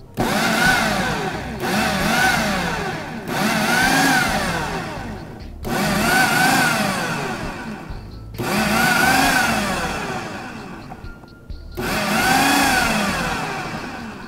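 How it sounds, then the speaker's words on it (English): A food processor pulses vegetables for raw chili, whirring in about six short bursts separated by brief pauses, loud and close with chopping rattle. "I've got all these here in our food processor. We're going to go ahead and pulse this."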